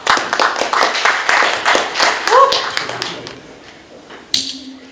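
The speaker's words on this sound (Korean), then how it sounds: "큰 박수 부탁드립니다" Audience clapping to welcome an invited Chinese-economy lecturer at a CEO economics academy, a dense burst of handclaps that thins out and fades over a few seconds, with a brief loud thump near the end.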